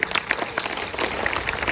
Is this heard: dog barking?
no